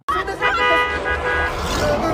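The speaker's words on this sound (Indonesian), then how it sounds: "si Kenes malah membunyikan klakson mobilnya, membuat para zombie itu mengejar mereka." A car horn honks in a zombie film, a loud tonal blare starting abruptly and holding over busy background noise, with voices mixed in.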